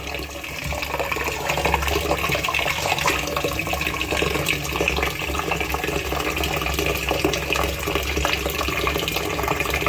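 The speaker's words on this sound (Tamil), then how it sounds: "இப்போ இதை நல்லா அலசிக்கலாம்" Mutton head meat is rinsed in water with continuous splashing and sloshing close by at steady volume, and no voices are heard.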